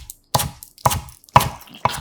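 Green onion leaves sliced diagonally with a knife into 0.5 cm pieces: four or five crisp, separate chops on a board, close and clear, with short pauses between strokes and no voices.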